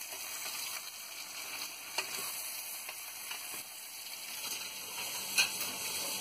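Stuffed brinjal curry (gutti vankaya) sizzles steadily in a pan, a constant close frying hiss broken by a few soft clicks and scrapes of stirring, with no voices.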